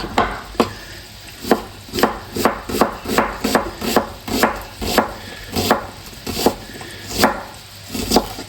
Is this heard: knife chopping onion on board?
yes